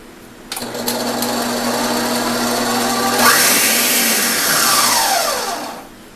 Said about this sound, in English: let's give this a quick mix to blend together before we start adding liquids